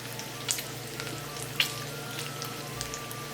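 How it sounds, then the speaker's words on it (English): Bacon cooking in a preheated skillet, a steady soft sizzle throughout with a couple of sharp pops and spatters, fairly quiet and close, no voices. "Next thing I'm gonna do is preheat a skillet and get some bacon cooking on it."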